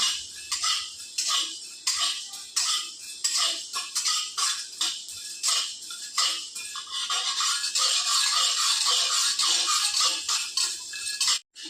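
Water chestnut flour is roasted in a pan while being stirred, producing close, rhythmic scraping and rattling strokes that blend into a steady dry rasp toward the end.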